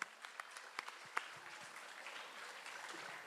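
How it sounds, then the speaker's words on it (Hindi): An audience claps for an award-winning chairman of a disability commission, in a steady, fairly faint wash of applause with a few sharper individual claps near the start. "एक बार जोरदार तालियां हम इनके लिए बजा दें।"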